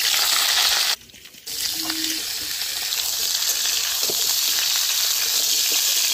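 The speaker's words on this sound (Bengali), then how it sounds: "ফোড়ন দিয়ে দিলাম, 5 ফোড়নের মধ্যে দিয়ে নেড়ে নেবো একেবারে।" Panch phoron spices sizzle in hot oil for Bengali shukto, a steady bright hiss that briefly cuts out near the start, then resumes with a few faint clinks as the spices are stirred.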